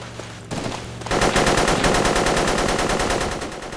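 AK rifle fire in the Battlefield 2 mod Project Reality, set in Fallujah: after a quieter opening, a loud, sustained burst of rapid automatic shots rattles on close by for several seconds.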